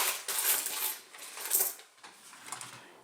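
Pennies dropping into a foil boat floating on water, several bright metallic clinks and rattles in uneven bursts, close and fairly loud with no talking.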